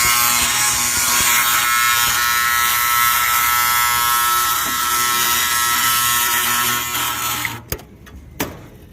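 A seized furnace combustion motor hums as a steady, loud, buzzing drone, then cuts off near the end, leaving a few faint clicks.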